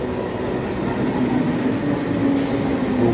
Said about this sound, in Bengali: হুগলি সেতু অর্থাৎ বঙ্কিম সেতুর দিক থেকে এসে একটি ট্রেন হুগলিঘাট রেলওয়ে স্টেশনে প্রবেশ করছে।